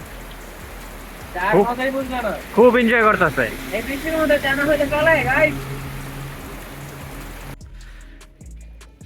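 Rain falls steadily at night over a scenic spot in Kapasia, Gazipur, a constant soft hiss running under a voice talking, then dropping away near the end.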